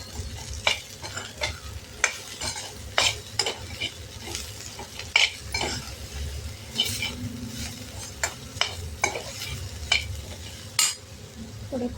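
Katole (spiny gourd) vegetable sizzles in a pan seasoned with coriander powder and salt, while a spatula stirs it in repeated sharp scrapes and taps over a steady fry, close and fairly loud, with no talking.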